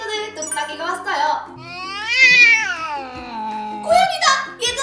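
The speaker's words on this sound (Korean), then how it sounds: "고양이다!" A cat meows in a children's craft program, one drawn-out, rising and falling meow in the middle, with lively talk before and after it.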